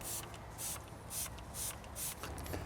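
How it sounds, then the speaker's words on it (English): Tropical Eruption air freshener misted from a 4-ounce spray bottle into a car footwell: a series of about five short, soft hissing bursts at a fairly even rhythm, close by and quiet, with no talk. "open it up, and always spray onto your footwells"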